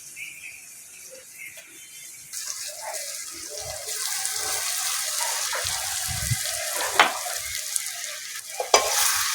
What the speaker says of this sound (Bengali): যে সয়াবিনটা মাখিয়ে রেখেছিলাম মশলার সঙ্গে সেটা দিয়ে দেবো।